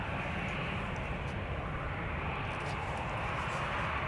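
Steady, loud jet roar from an airliner in the Shamrock retro livery departing Amsterdam Schiphol Airport, a broad continuous rumble that holds level throughout with no voices.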